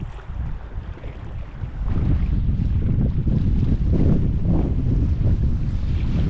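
Strong wind buffets and roars over the microphone while salmon fishing, growing heavier after a couple of seconds, with a faint wash of water underneath.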